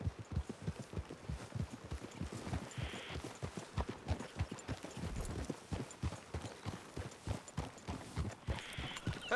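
Horses walking at a steady pace, hooves clip-clopping in a regular rhythm on firm ground, fairly close and quiet throughout.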